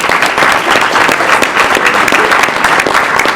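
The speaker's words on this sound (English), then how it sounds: "I want to give another round of applause to this young man." Audience applause at a chamber of commerce holiday luncheon panel, steady, dense clapping from a room full of people, loud and continuous for the whole stretch with no talk over it.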